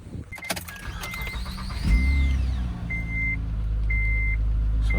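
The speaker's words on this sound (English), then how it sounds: "I'm gonna show you guys me starting up the car" An Acura TL Type S daily driver with a failed alternator and an oil leak: warning chimes beep, then the engine cranks and catches about two seconds in, settling into a steady, close idle rumble with repeated chimes above it and no talk.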